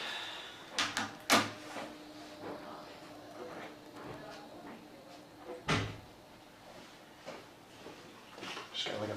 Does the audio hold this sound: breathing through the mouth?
no